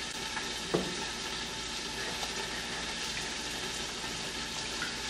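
Creamy Italian chicken sauce simmers in a pan as cream cheese is stirred in, a soft continuous sizzle with a few faint scraping touches of the spoon.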